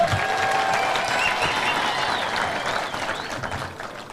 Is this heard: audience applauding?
yes